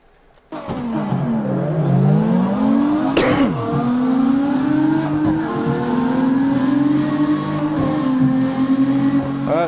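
A sports car engine in the video game CarX Drift roars to life and revs hard, pitch sweeping up and down through gear changes, loud and close with no talking.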